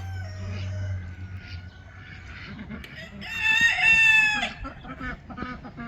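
A rooster crows loudly nearby while chickens cluck around it, a busy farmyard chorus with ducks and geese also kept there, and no voices.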